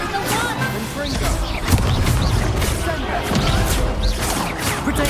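Explosive fire-blast spells go off in Hogwarts Legacy combat, a dense string of booms and crashes layered over a busy game soundscape, with shouted incantations and chatter from players throughout.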